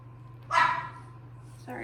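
A household dog gives a single short bark at mid-distance, then a fainter second yip follows near the end, over a low steady hum in a kitchen while cupcakes are being frosted.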